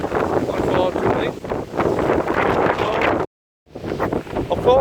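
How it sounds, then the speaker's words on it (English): Heavy wind buffets the microphone in loud, rumbling gusts outdoors near woods in Esh Winning, cutting out briefly before roaring back. "And it's a bit windy, unfortunately."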